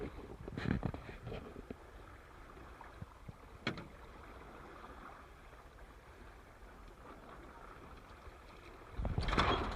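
A Dart 18 catamaran sails solo downwind, with a faint, steady wash of wind and water and a few soft knocks and splashes.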